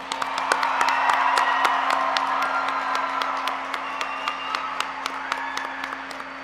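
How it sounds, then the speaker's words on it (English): At a graduation ceremony, a crowd applauds and cheers for the graduating class, sharp individual claps and whoops standing out against a steady low hum, loudest early then thinning. "So everyone, please join us in a round of applause for the class of 2025."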